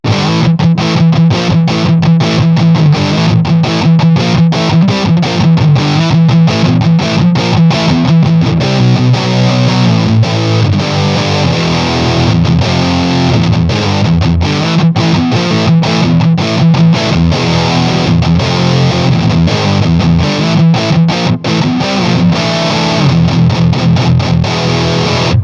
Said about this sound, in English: a little bit more of that 80s style distortion